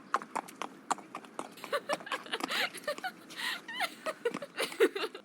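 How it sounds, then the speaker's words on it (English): Horses' hooves clip-clop close by in a steady, uneven rhythm, with soft scuffling, a brief whinny and light laughter mixed in as the animals pass near a window. "I would wake up every morning to the sound of hooves, the horses' playful scuffling"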